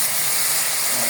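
Garlic paste hits hot oil in a pan while cooking Bengali pumpkin-leaf greens with tilapia, giving a steady, close, dense hiss and sizzle that holds evenly throughout with no talk.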